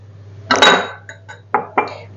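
A spoon stirs eggplant dressing with vinegar and lemon juice in a dish, giving a burst of clattering clinks followed by a few separate sharp taps against the dish.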